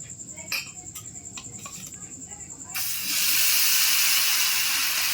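Rice-flour and bottle-gourd batter hits a hot oiled tawa and breaks into a loud, steady sizzle and hiss that fills the second half, after a few light clinks and scrapes.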